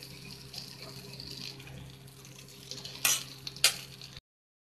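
Potato slices frying gently in masala in a pan, with a steady low sizzle and two short, louder scraping bursts of stirring near the end.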